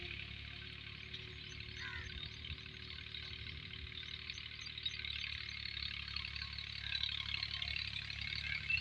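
A tractor ploughs a field being prepared for rice cultivation, its engine droning at a low, steady, fairly faint level that gradually grows louder as it approaches.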